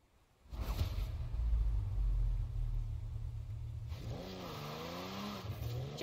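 A Jaguar F-Type in Forza Horizon 4, its engine roaring loud and close as it accelerates, then a wavering rev rising and falling through gear changes, no talking.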